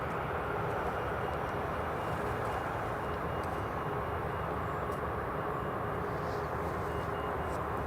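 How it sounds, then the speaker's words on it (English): An EasyJet airliner rumbles as it lines up on the runway at Newcastle International Airport, a steady broadband engine roar heard from a distance outdoors and holding constant throughout. "EasyJet just about to line up"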